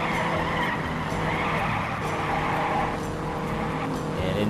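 Race car tires slide and squeal in the video game Indianapolis 500 Evolution, a sustained skidding screech layered over a steady roaring engine, loud and continuous for the whole stretch.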